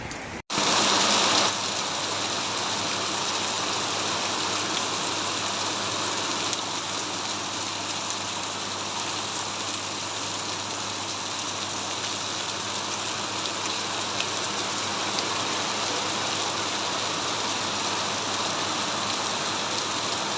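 Continuous, dense hiss of rain falling steadily at Kukke Subrahmanya temple during the Champa Shashti festival, after a brief louder burst at the very beginning.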